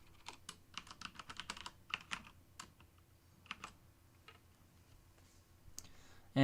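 A computer keyboard clicks quietly as someone types, with bursts of several quick keystrokes, short pauses, then a few scattered single taps, faint and close.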